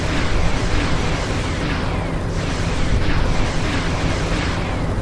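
M28 Hunter rockets striking a dummy tank in a video game blast with a loud, dense, rumbling roar that continues throughout with a few surging bursts and no speech.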